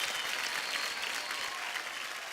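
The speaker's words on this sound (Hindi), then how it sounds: "जोरदार तालियां हो जाए" An Indian Idol studio audience gives a loud, sustained round of applause, dense even clapping throughout with no speech over it.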